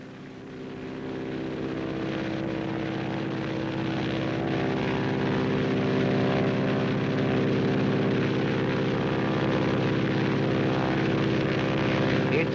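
A propeller-driven air ambulance plane flying over Saskatchewan parkland farms, a steady droning engine hum that swells slightly and holds loud and constant for the whole stretch.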